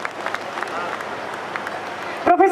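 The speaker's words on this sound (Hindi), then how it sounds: "जोरदार तालियां आपके लिए।" Audience applause for an honoree at a Holi gathering honouring women, moderate steady clapping over a crowd murmur, with a voice cutting in near the end.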